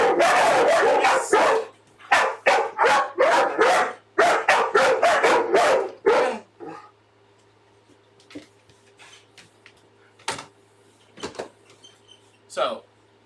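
A trained dog barks in a rapid burst of loud, close woofs during the first half, followed by a few scattered, fainter barks and quiet pauses, with a voice also present.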